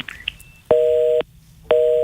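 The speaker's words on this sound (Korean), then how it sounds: "지금 전화 연결하는 도중에 연결이 좀 끊겼습니다" A dropped telephone connection on a live radio phone-in produces a busy signal: two steady electronic tone bursts with a short gap between them, preceded by brief faint beeps.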